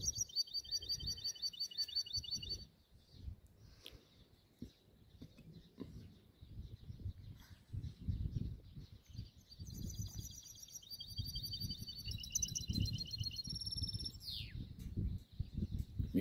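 A perched songbird sings repeated high, rapid trilling phrases with short pauses between them. It is fairly faint against low outdoor rumble and ends with a crisp closing flourish.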